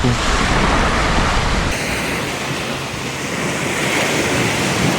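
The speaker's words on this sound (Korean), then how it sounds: "바다 소리도 그렇고" Ocean waves wash steadily onto a beach at sunrise, a loud continuous roar of surf with wind buffeting the microphone throughout and no voices.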